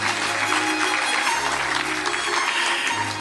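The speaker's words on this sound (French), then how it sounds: "On applaudit écho, s'il vous plaît." An audience in Boston applauds a journalist's event, with dense, even clapping filling the whole stretch at close range and no one speaking.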